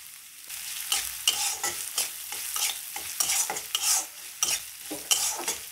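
Washed and drained lentils fry in a pan with salt and turmeric, giving a continuous sizzle broken by repeated rhythmic scraping strokes of stirring. No voices are heard.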